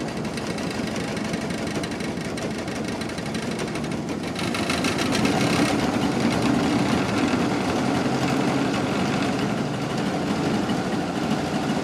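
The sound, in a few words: 1929 Ford Model AA engine running unevenly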